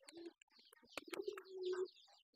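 Pigeons on a pigeon farm coo softly and close by, with a short murmur followed by one long, drawn-out coo and a few faint chirps, with no talking.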